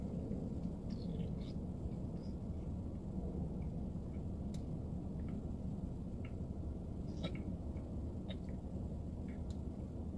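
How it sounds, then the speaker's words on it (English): Steady rain falling outdoors as a storm begins, a continuous low rushing wash with scattered faint ticks and drops throughout, no clear thunder crack standing out. "it's starting to rain"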